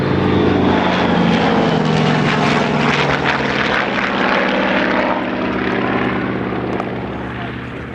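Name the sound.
aircraft propeller engine running on the ground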